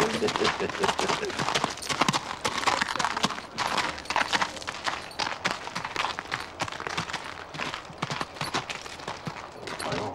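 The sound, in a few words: horse moving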